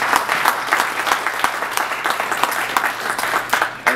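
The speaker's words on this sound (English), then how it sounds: "So I want y'all to give them a round of applause." A conference workshop audience gives a round of applause, a steady crowd of clapping hands with distinct sharp claps standing out, sustained and fairly close for several seconds without talk.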